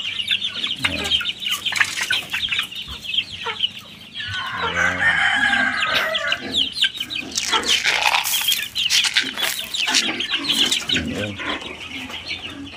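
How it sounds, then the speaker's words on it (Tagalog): Several chickens cluck and squawk close by, with a rooster's crow rising in the middle, against a busy farmyard background. "Ang dami na manok natin mga pastor."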